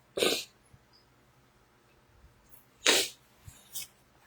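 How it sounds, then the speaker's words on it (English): A person blows their nose into toilet paper in a few sharp, breathy bursts: a strong one at the start and another about three seconds later, with smaller snuffles between and after, close and fairly loud. "I need to blow my nose."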